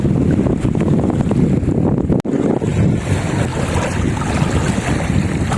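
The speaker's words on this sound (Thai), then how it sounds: "ได้ฟังเสียงคลื่นน้ำนะครับ" Wind-driven waves lapping on Huai Mai Teng reservoir in Chom Bueng, Ratchaburi, with steady gusts buffeting the microphone, a continuous loud wash of water and wind interrupted only by a brief dropout.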